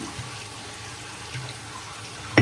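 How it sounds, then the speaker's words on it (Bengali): Water runs steadily over a stone grinding slab (shil-nora) being rinsed, a soft continuous splashing close by, ending in a louder burst of splashing. "শিলনোড়াটা ধুয়ে নিলাম ওগুলো বেটে নেব"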